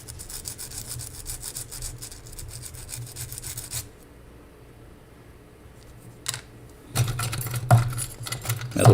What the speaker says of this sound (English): Metal file for a metal burr.